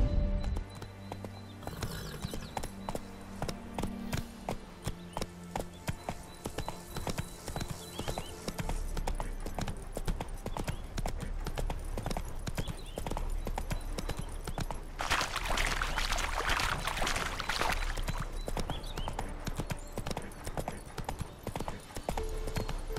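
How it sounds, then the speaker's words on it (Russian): Horse hooves clip-clop steadily and loudly in the video game The Witcher 3, with a brief whinny and a louder burst of rustling noise partway through. "Ты коня моего пугаешь."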